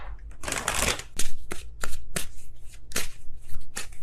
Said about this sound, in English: If I could shuffle, that would be great.